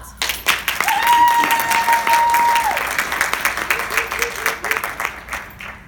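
A small audience breaks into steady applause for Cheryl, a dense burst of clapping that swells quickly and then gradually thins out, with a voice speaking briefly over it.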